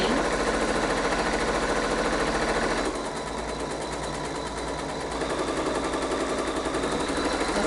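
A Bernina sewing machine with an echo quilting presser foot stitches in a rapid steady mechanical chatter, close and loud, dipping briefly in the middle before resuming at full pace.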